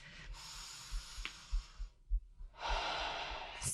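Exhaled breaths while rising from a squat in a full-body flow workout: airy, hissing breaths near the microphone, a long outbreath, a short pause, then another strong sustained exhale.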